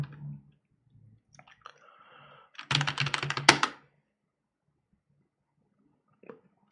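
Computer keyboard typing a terminal command while installing software on Debian Linux, a quick burst of clustered key clicks, close and moderately loud, set between quieter clicks and silence.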